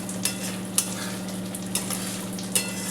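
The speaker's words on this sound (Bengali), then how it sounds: "ছোলা সেদ্ধটা ঢেলে দেবো।" Boiled black chickpeas go into a pan of cooked spice paste for ghugni, with a steady close sizzle of frying and a few sharp clacks of a spoon stirring against the pan.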